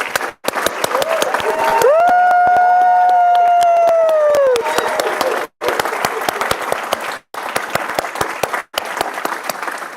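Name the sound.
applause for fellowship graduates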